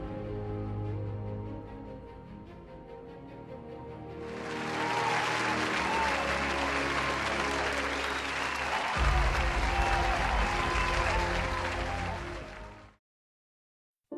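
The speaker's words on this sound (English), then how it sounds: "leaving everyone else clapping for her" Simulated Sims in The Sims 4 clap together for a departing Sim, a steady patter of game applause that starts a few seconds in over background music and cuts off abruptly near the end.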